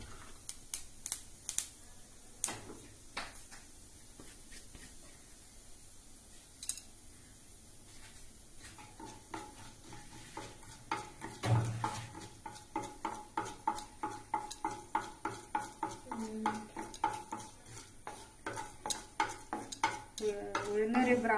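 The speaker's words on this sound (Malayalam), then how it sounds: "ഉഴുന്നൊരു ബ്രൗൺ കളർ ആവുന്നവരെ വഴറ്റി കൊടുക്കാം" Mustard seeds and urad dal fry in oil while a spoon stirs them. Scattered early pops and clinks build into rapid, rhythmic metal scraping with sizzling underneath, fairly quiet and close.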